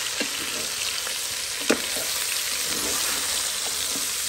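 Guinea fowl curry fries in a pot with a steady, loud sizzle while a spoon stirs it, giving a few soft scraping knocks over the hiss, close and with no talking.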